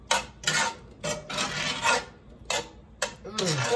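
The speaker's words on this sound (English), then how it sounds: "Now I'm going to add the shrimp back to the pan." Shrimp being stirred around in a pan, giving rhythmic scraping and rasping strokes of a utensil against the pan surface in close, repeated bursts, with brief pauses between strokes.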